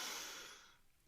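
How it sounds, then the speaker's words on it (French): A single deep inhale through the nose during a guided relaxation session, a soft airy rush that starts strong and fades away over about a second, quiet and close, with no voice over it. "prenez une profonde inspiration par le nez."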